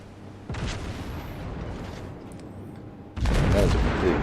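Naval gun volley from the German cruiser Konigsberg in World of Warships, a dull booming rumble that swells twice, the second burst louder and heavier, with faint talk beneath.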